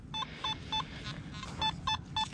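A Simplex metal detector in a park emits a string of short electronic beeping tones reading around 75 to 76, in repeated bursts, moderately loud over a low background rumble.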